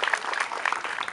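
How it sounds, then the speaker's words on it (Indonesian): Applause for student council (OSIS) chair candidates at a school event, a short burst of dense clapping from a crowd, fairly close and steady throughout. "Tepuk tangan dulu dong untuk para calon ketua OSIS."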